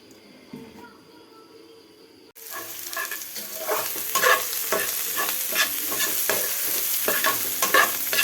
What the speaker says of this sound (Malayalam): ആ വെളിച്ചെണ്ണ ഒഴിച്ച് കൊടുക്കാം